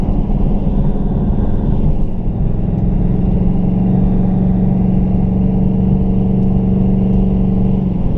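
A Mustang with a TH400 automatic transmission pulls away on a street under light throttle, its engine note rising smoothly into a loud, steady mid-range drone with a low rumble and no talking.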